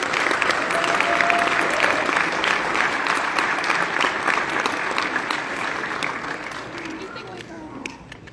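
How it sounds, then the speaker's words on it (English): Large crowd of over 1,800 people at a Hot Wheels collectors' nationals event applauding steadily, a broad sustained wash of clapping that slowly tapers toward the end. "So a little round of applause to recognize those folks."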